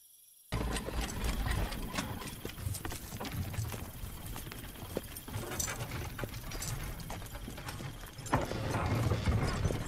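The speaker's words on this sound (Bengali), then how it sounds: "গরুর গাড়ি ধীরে ধীরে এগিয়ে চলেছে" A bullock cart rolls slowly along at night, with irregular knocking hoof-like clops and creaking, rattling wheel sounds at moderate loudness over a steady low rumble, starting abruptly after a brief silence, with no talking.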